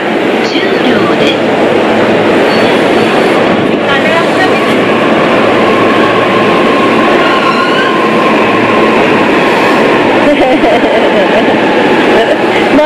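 A train runs at a station in Japan, a loud steady rail rumble with wheel squeal and clacking close by, while a recorded platform announcement and chatter sound over it.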